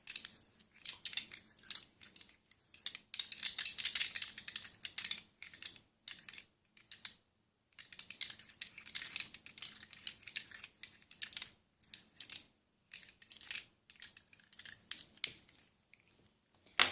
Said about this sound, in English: I think the best sounds that come from these dice